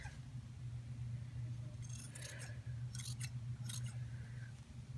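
Quiet scissor snips trim the bottom of a small knitted Santa hat for a dog into a point, three or four short crisp cuts over a low steady background hum.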